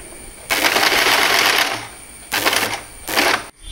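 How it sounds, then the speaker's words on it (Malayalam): A sewing machine stitches a girl's umbrella-cut birthday frock in two sustained runs of rapid mechanical whirring with a short pause between them, loud and close, then stops abruptly, and no one talks. "അതിനുശേഷം സ്ട്രെയിറ്റ് ആയിട്ട് തയ്ച്ചു പോവുക."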